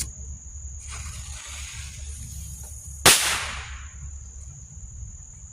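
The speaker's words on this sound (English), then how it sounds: "Those firecrackers, couple of them." A single sharp firecracker bang cracks out about halfway through, its hiss trailing off over a quiet outdoor background with a steady high whine.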